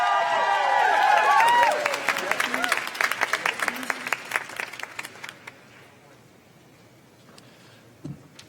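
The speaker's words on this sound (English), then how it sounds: "Please join me in a round of applause as they perform for the last time." Loud applause and cheering from a large convention audience, with some whooping early on, gradually dying down to scattered claps and quiet murmurs.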